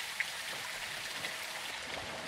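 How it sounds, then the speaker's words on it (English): Steady rain in the Call of Duty Modern Warfare 2 (2022) campaign, a continuous hiss of falling drops spread evenly across the whole stretch with one small splash near the start, no talk over it. "It's raining."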